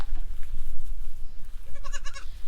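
A farm goat bleats near the end after a stretch of noisy outdoor background, a short wavering call that is loud and close.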